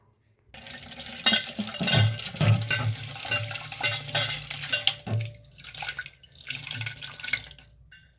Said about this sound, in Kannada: ಇಷ್ಟು ತರಕಾರಿ ಬೇಳೆ ತೊಳ್ಕೊಂಡು ಬಂದ್ಬಿಡೋಣ